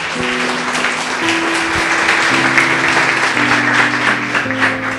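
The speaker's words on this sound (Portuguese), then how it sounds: "Louve a Deus com as suas palmas bem forte." A church congregation claps loudly in praise, a thick, continuous roar of hands over sustained keyboard chords playing steadily beneath.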